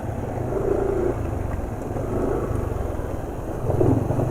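A motorcycle engine runs on Fastron diesel oil from 2024 production, giving a steady, fairly close low rumble that holds at an even level and swells slightly near the end.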